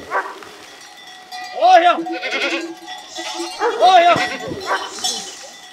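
Goats being driven into a stream bleat loudly and repeatedly, with bells clinking among them and people calling out over the herd.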